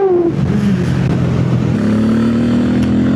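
A Harley-Davidson X440T motorcycle engine runs while riding, giving a loud, steady, deep drone that slightly shifts pitch partway through, with no talk over it.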